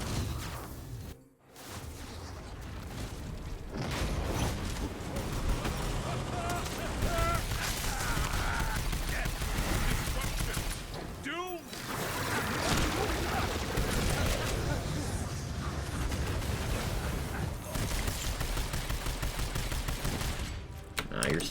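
Video game gunfire crackles in rapid bursts and fusillades, nearly continuous across the clip with whooshing effects mixed in, while a voice talks over the action.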